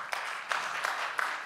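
Faint, distant applause from a lecture audience at a French talk on the brain and beliefs. It forms a soft continuous patter with a few slightly stronger claps, and there is little else.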